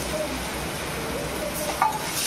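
Tomatoes and potatoes sizzle gently in a pan while being stirred for a spicy masala khichadi, a soft steady frying hiss with a brief scrape of a utensil near the end.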